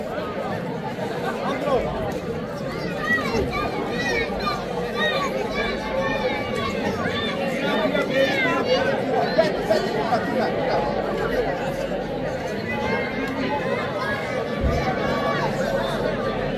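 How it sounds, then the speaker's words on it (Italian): Outdoor crowd at the Palio del Seprio men's tug-of-war, a dense, steady hubbub of chatter and scattered cheering, with a voice talking over it. "Oh, sento un po' di tifo e questo è positivo."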